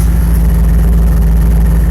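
A 1992 Cadillac Seville STS with dual exhaust and a single muffler idles steadily, a loud, deep, even rumble right at the tailpipes with no variation.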